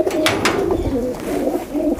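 A low-flyer kabootar pigeon coos repeatedly at close range, soft throaty calls rising and falling in a continuous pattern with no speech over them.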